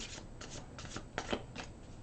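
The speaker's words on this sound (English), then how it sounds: "So I'm going to shuffle a bit here." Tarot cards are shuffled by hand, a series of soft, quick riffling flutters in uneven bursts, close and quiet.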